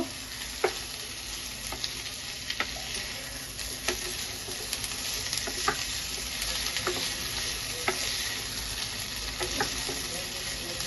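Mixed vegetable curry with paneer and chilli powder sizzles steadily in a pan while a spoon stirs the spices through it, with soft scraping knocks at irregular intervals over the constant frying hiss.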